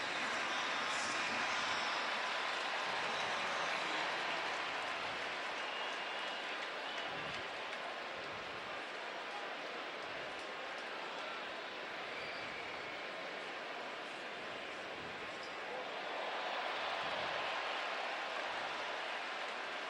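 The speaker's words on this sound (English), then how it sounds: "You hear the crowd behind us." A steady, loud roar from a stadium crowd at a Tampa Bay Buccaneers vs Detroit Lions NFL game in Detroit, a dense wash of noise that holds throughout without a break.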